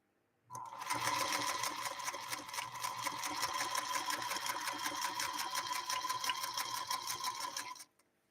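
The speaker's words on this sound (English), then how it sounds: "We'll see if we can get through 2 layers of this and lay down some great, gorgeous looking stitching" A vintage 1952 Singer sewing machine runs steadily through two layers of canvas, a loud, even, rapid stitching whir with a fast mechanical clatter held for about seven seconds, no talking over it.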